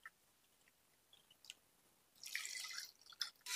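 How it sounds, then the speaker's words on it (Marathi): Water poured into a pan of jaggery while making a sweet jaggery syrup for dhirde, a faint splashing pour that starts a couple of seconds in after near silence and runs to the end. "1 कप गुळ टाकून घेतोय आणि याच्यामध्येच तेवढंच पाणी टाकून घ्यायचं"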